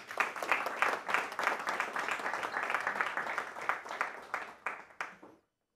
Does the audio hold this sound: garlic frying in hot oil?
no